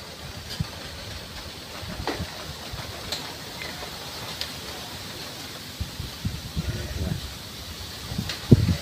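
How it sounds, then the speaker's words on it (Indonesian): Strong wind blows around a bird's nest outdoors as a steady, rushing roar close to the microphone. Scattered soft knocks and rustles sit under it, and a gust swells near the end. "Ini anginnya berhubung sangat kencang sekali ya"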